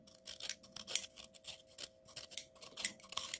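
Silver nitrate crystals being chipped and broken up inside a glass vessel, a close, rapid series of sharp scraping clicks and crunches in an irregular rhythm with no talking.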